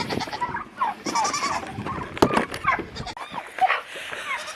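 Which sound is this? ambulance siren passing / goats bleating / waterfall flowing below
goats bleating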